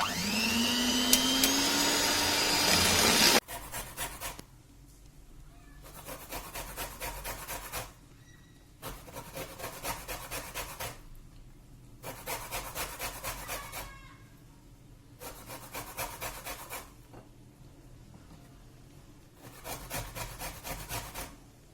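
Cake batter being beaten in a bowl with an electric mixer, flavoured with lemon zest and vanilla, after a loud opening burst, running in repeated whirring bursts of several seconds separated by short pauses, close and steady.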